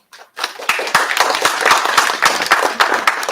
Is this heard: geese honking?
no